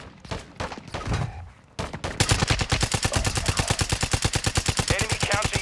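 Call of Duty Warzone gunfire rattles out in a long, loud, rapid, evenly spaced automatic burst close by. Brief scattered shots and a voice come before it.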